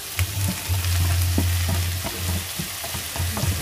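Buah kepayang stir-fried in a pan with anchovies and chili padi gives a steady, close sizzle with occasional scraping stir strokes, with no talking over it.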